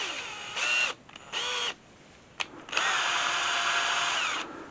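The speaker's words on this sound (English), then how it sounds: "He takes a Q-tip and puts it in a power drill," A power drill spins a cotton swab in short bursts: two brief high whines, a quick blip, then one longer sustained run, close and fairly quiet.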